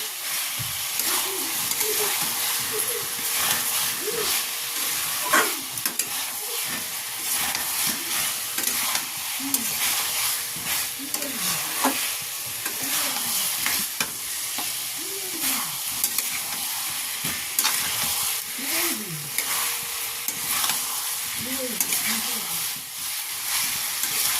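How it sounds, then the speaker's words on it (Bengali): Fried potatoes are stirred into spiced masala in a pan for a Bengali aloo dum, with continuous sizzling and frying hiss throughout and steady scraping strokes of a spatula. "যে আলুটা ভেজে রেখেছি ওটা দিয়ে দিচ্ছি। আবারও মিশিয়ে নিচ্ছি।"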